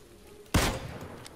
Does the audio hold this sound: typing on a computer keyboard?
no